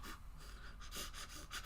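A person imitates heavy breathing with a few rapid, breathy pants, quiet and close.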